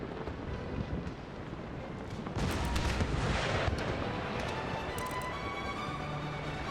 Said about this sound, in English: Let's give them a good broadside here.